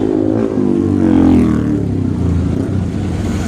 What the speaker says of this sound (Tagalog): Traffic pa rin oh.